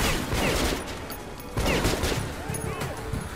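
Rapid automatic gunfire in the first-person shooter Metro 2033 Redux comes as dense bursts with a brief break, fairly loud and close, while someone talks over it.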